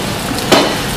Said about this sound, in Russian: То есть кимчи жарится,